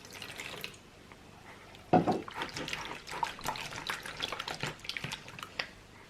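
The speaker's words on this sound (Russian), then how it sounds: "Чуть-чуть тепленькой воды добавляю." Warm water pours and splashes into a bowl of egg yolks for noodle dough, starting with a sudden gush and continuing as a trickling, bubbly stream, close by.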